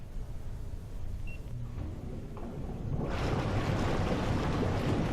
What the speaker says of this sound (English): by pressing this key, you'll turn on the blower and enjoy that therapy